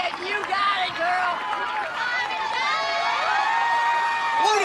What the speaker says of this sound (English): and the crowd is responding.